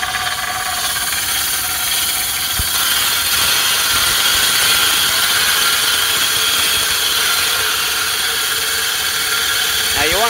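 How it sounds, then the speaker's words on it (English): Reel mower running steadily during backlapping, its bed knife set against the reel, giving a loud continuous whirring mechanical drone with a faint ratcheting grind and a brief knock near the start. "Let's continue backlapping."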